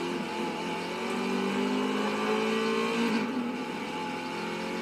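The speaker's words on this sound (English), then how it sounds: "I get that engine started." Car engine revving hard in a demolition derby race in the Racedriver GRID video game, a loud continuous drone of rising and falling pitch with tire noise, filling the whole stretch without talk.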